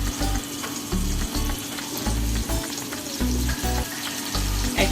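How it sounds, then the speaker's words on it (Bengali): Ginger and garlic paste frying in hot oil, a loud, close, continuous sizzle with a pulsing, bubbling texture, heard alone with no talking. "আদা রসুনটা এখন আমি একটু তেলে ভেজে নিব 1 মিনিটের মতো।"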